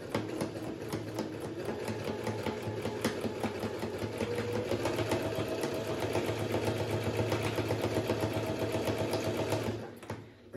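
A Brother Super Ace SE model 947 sewing machine stitches steadily and continuously at close range, its rapid needle clatter and motor hum holding an even pace for about ten seconds before stopping abruptly.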